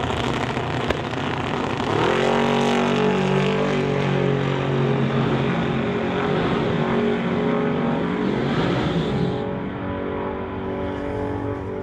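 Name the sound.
drag race cars launching down the track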